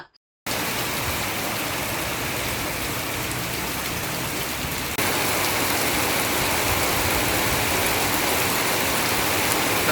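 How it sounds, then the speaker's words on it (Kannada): Heavy, misty rain pours over the Malnad hill country of the coffee region, a dense, steady roar with no pauses, close and loud throughout, swelling slightly louder in the second half. "ಫುಲ್ ಮಿಸ್ಟು ಭಾರಿ ಮಳೆ ಸರ್"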